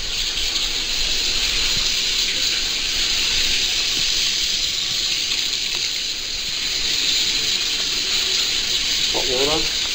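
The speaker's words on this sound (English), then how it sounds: "Hot water," Hot water runs from a tap during a home inspection in McKinney, Texas, a steady, loud rushing hiss that holds for the full ten seconds, with a brief voice near the end.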